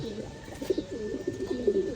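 Soft, low pigeon coos repeat in a steady, rolling rhythm, fairly quiet and close, with no other sounds standing out.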